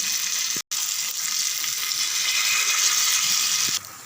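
Small nethili anchovies frying in hot oil, a steady close sizzle with a brief break early on and a slight drop near the end.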